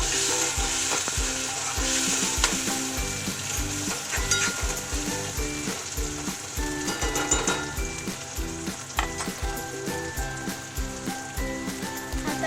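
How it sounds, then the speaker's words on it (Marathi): Tomatoes tossed into onions frying in a pan and stirred, giving a continuous loud sizzle with repeated spoon scrapes and knocks against the pan in an irregular rhythm, up close, no talking. "त्यामध्ये टोमॅटो टाकूया मिक्स करून घ्यायचं"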